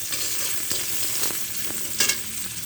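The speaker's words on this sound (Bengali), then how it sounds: "লবণ দিয়ে উচ্ছেগুলো ভেজে নেবো তেলে দেখেন উচ্ছেগুলো ভালো হয়ে গেছে" Bitter gourd pieces frying in oil with salt, a steady close sizzle with occasional stirring scrapes and a brief louder clatter near the end.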